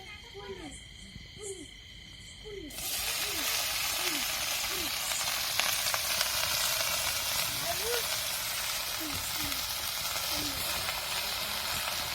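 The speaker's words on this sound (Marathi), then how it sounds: "आता आपण तेल पण टाकलं होतं आणि तेल टाकल्याच्या नंतर कालीज पात पण टाकलेली आहे" Spring onion greens drop into hot oil in a heated wok, setting off a sudden, loud, steady sizzle that runs to the end. Before it, a quiet stretch carries faint bird-like calls.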